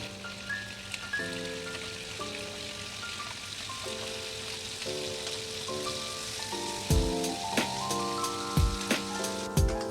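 Prawns for a prawn roast frying in hot oil while being turned over, a steady crackling sizzle with occasional sharper pops and scraping toward the end.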